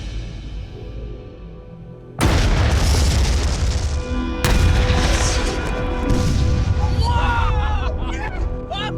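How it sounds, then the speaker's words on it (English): A huge 500-pound explosive detonation set off outdoors for a sock-removal test, hitting as a sudden massive boom followed by a second blast and a long rumbling roar that rolls on with distant debris and faint crowd noise. "this is knock your socks off using a 500-pound explosion"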